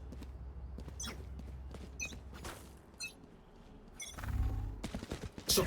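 Video game gunfire laying down suppressing fire: a few sharp crackling shots scattered over several seconds, ending in a louder burst with heavy low rumble, amid game ambience at moderate level.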